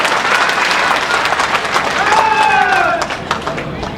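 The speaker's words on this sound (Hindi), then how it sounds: "हुए हैं तो हाथ उठाकर ताली बजाइए" Audience at a Jharkhand election rally in Chatra clapping, a dense, steady wash of applause with crowd noise that dips near the end, while a faint tonal sound rises in the background.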